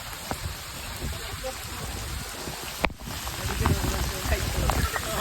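Heavy rain pours in a dense, steady hiss outdoors, with a sharp knock near the middle and the downpour swelling slightly louder toward the end.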